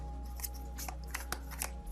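Tarot cards shuffled and drawn by hand, a few soft papery flicks and slides up close over a steady low electrical hum, with no talking.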